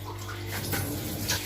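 Running water splashes continuously as dishes are washed in a home kitchen sink, a close, steady wash of water with faint clinks over a low hum.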